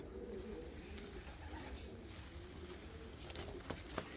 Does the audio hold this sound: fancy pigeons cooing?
yes